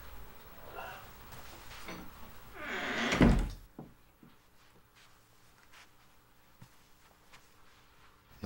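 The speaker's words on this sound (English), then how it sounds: "Close the door." A door shuts with a single firm thunk in the Tex Murphy video game, preceded by a short rising rustle and followed by a quiet room tone.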